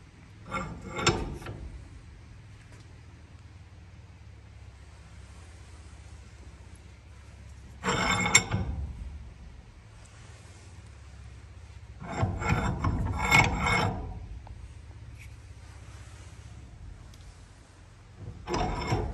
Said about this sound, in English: So we'll see if we can't put it in the vise and just finish the job here, if we can get it going the right way.